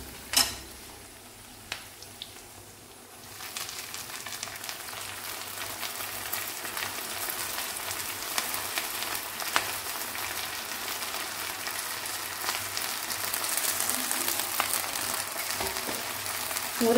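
Drumstick vegetable pieces dropped into a hot pan for murungai keerai rice, with a steady sizzle and frying crackle rising after a brief clatter and continuing close and even throughout.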